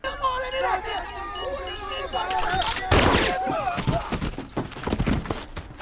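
Rapid bow shots fired in Risk of Rain 2, a quick run of crisp projectile releases and impacts over busy game sounds, with talk underneath.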